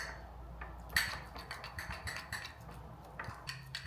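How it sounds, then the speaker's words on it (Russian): Flour sourdough starter being stirred in a bowl, a quiet run of irregular clinks and scrapes from a utensil against the container, with one sharper tap near the start, close and soft throughout. "Перемешиваем все тщательно."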